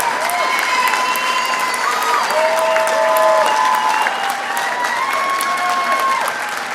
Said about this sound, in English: got a standing ovation